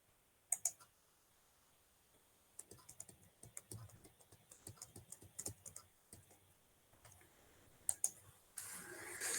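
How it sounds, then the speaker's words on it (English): Keys clatter on a computer keyboard in quiet, uneven bursts of typing and clicking, with several louder isolated taps and a short rustle at the end. "This typing and editing gives us a problem."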